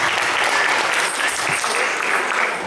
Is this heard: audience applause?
yes